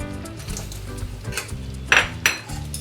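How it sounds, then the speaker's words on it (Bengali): Paneer frying in a pan over raised heat, a steady sizzle with a couple of sharp metallic clinks of a utensil against the pan, close and alone. "গ্যাসের একটু জোর বাড়িয়ে একটু ফ্রাই করে নেবেন"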